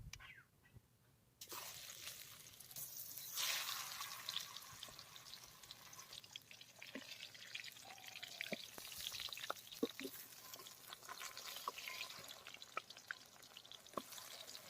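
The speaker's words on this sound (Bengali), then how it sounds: "এখন এই চাকতিগুলো গরম তেলের মধ্যে ভেজে নেব।" Ash gourd slices sizzle steadily in hot mustard oil in a kadhai, a continuous close crackling hiss with scattered pops and spatters that starts abruptly and runs throughout.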